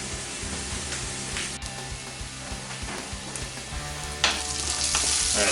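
Onions simmer and sizzle in a pan for shakshuka, a steady close frying hiss with small crackles throughout and a brief burst of louder spitting near the end, no voices.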